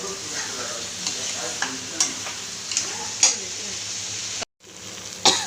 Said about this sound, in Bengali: এই যে আলু এগুলো দিয়ে কষছি।